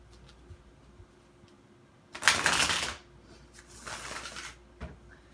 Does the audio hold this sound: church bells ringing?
no